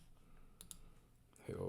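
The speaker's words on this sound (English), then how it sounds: "Now I can click that texture." Two faint, quick computer mouse clicks in a quiet room, followed at the end by a voice starting to speak.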